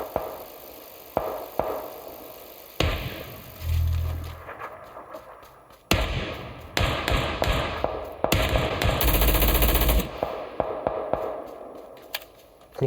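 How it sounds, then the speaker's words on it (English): An MP5 submachine gun firing in a video game, heard as sharp clustered bursts and thuds scattered among other game noises and impacts, loudest through the middle stretch. "Coolest sounding gun probably in the game right here, the MP5"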